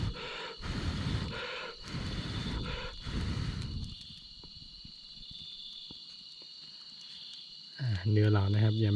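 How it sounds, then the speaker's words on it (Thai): Crickets chirr steadily in the quiet of a forest at night, with some close rustling and scraping early on and a brief tonal call near the end. "เสียงจิ้งหรีดเสียง นกร้องนะฮะ"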